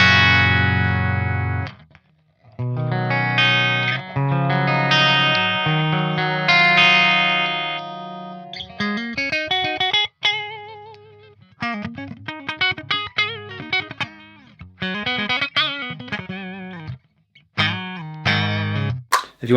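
Electric guitar on a very clean tone through a Driftwood Purple Nightmare amplifier with the tube screamer off, ringing sustained chords and then choppy plucked notes and short phrases, loud and close with no talk.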